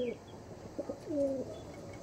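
Andhra Lalshira pigeons give a few short, faint coos with a soft rising and falling tone, alone against a quiet background.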